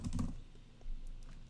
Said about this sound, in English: I am just going to type it in the search bar.